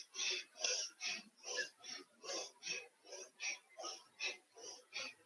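Rapid rhythmic yoga breathing done while swinging both arms up and down: about a dozen forceful breaths at an even quick pace, close and fairly quiet.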